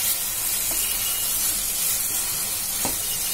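Carrot halwa with dry fruits being stirred in a pan, a continuous loud sizzle and hiss with faint occasional scrape strokes, no talking.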